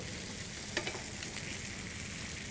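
A bone-in ribeye (cowboy or tomahawk) steak sears in a skillet with a steady, close sizzle and crackle, plus a few soft stirring or shifting sounds and no talking.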